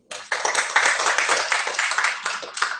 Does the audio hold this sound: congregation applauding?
yes